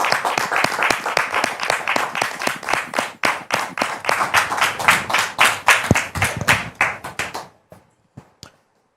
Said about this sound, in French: On peut la recevoir avec des applaudissements nourris.